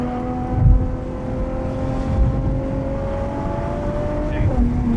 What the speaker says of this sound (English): This is an upshift. This is a downshift right here.